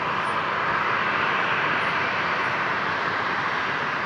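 A Life Flight Challenger jet at Brisbane airport gives a steady, loud broadband roar that holds evenly throughout without pauses or voices.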